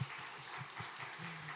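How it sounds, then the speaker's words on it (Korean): A church young adults' Sunday worship congregation claps in thanks, a quiet, steady patter of applause from a fairly small group heard at a distance. "우리 이인용 장로님께 감사의 박수를 함께 전해주시면 좋겠습니다."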